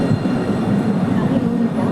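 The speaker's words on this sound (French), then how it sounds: "Donc il y a le tram qui arrive qui vous amènera vers Monson." A Line 3 tram rolls into a Montpellier street station with a continuous loud, close rumble of wheels on rail.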